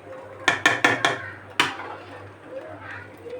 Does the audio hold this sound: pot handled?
yes